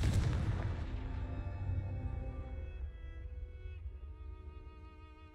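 A Confringo blasting spell detonates in Hogwarts Legacy with a heavy, booming explosion right at the outset, its rumble slowly fading into a long, quiet ringing tail with no talk over it.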